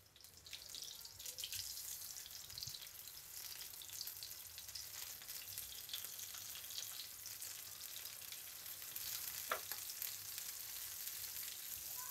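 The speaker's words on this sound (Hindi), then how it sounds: "टमाटर को हम दोनों साइड से अच्छी तरह से फ्राई कर लेंगे।" Chopped tomatoes frying in a pan, a continuous soft hiss and sizzle held steady throughout with a few faint stirring scrapes, close but low in level, no voices.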